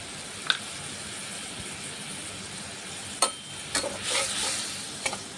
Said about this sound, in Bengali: মশলাটা কষিয়ে আসলে তারপরে বাঁধাকপিটা দিয়ে দেব।